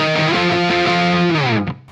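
An electric guitar with a crunchy overdriven tone through an Amped Volcano amp simulator plays sustained distorted chords that slide downward, loud and close, then cut off abruptly near the end.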